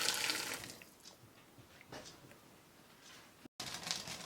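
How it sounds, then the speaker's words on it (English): Boiling water poured into a pot on the stove with chicken legs and bacon for homemade broth, a soft splashing and rushing flow that swells and fades, fairly quiet and briefly cut out near the end. "and pour in boiling water."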